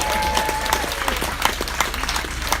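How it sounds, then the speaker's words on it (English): A game show audience on a cruise ship applauds steadily, a dense near crowd clapping with no voices over it. "Round of applause."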